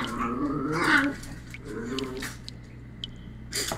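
Dogs bark and whine at close range in a brief, uneven burst, then a few fainter yelps follow over a low steady hum.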